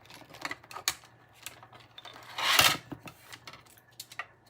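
Paper being cut with scissors while making a greeting card, faint snips and rustling handling noises scattered throughout, with one louder, longer cut near the middle.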